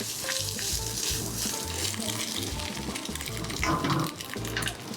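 Egg, carrots and leeks frying for Balinese nasi goreng, a loud, steady sizzle with stirring and scraping close by throughout.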